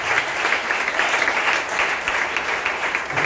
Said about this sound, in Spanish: Aplaude Dios, por favor.